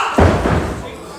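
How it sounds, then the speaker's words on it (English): A wrestler is slammed face first off the top turnbuckle at a live independent wrestling show in Loughton, landing with one heavy, booming thud that rings out and fades under voices. "Off of the top turnbuckle, face first."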